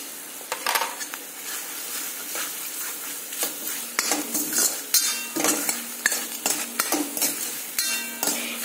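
Spices, including homemade garam masala, are fried and stirred in a pan for Kolhapuri misal over medium heat. A spoon scrapes and clinks against the metal in an uneven rhythm over a soft sizzle.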